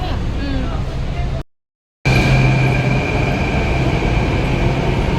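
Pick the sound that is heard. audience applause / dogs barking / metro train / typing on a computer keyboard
metro train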